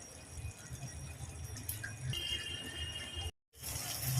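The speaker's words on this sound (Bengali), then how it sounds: "এবার আমি বাটি ধুয়ে জলটা দিয়ে দিলাম" Water splashes and trickles steadily into a bowl of fried-down spice paste for a prawn curry, a close continuous wet rushing with a brief silent break near the end.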